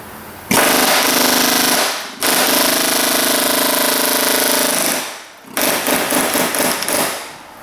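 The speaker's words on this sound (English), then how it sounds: "You gotta be careful if you're using an air hammer." An air hammer rattles in loud, rapid bursts against a rusty Chevrolet Silverado fuel tank, with two long continuous runs and a shorter choppy burst separated by brief pauses.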